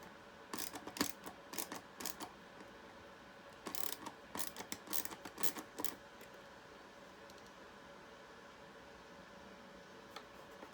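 A number 2 Phillips screwdriver turns short screws into plastic with bursts of quick ratcheting clicks, faint and close, in two clusters over a quiet hissy background before falling silent.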